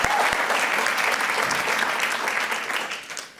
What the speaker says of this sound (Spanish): Ese fuerte aplauso. Give a strong applause.